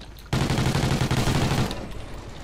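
Sustained automatic gunfire from the Call of Duty: Ghosts Extinction mode, a dense rapid burst of shots starting abruptly and rattling on steadily for over a second before tapering into lingering game noise.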